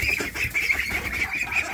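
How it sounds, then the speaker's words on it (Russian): Young ducklings quack and peep together near the microphone, a busy, continuous cluster of short, high calls with scuffling farmyard noise underneath. "А дети уже крякать научились"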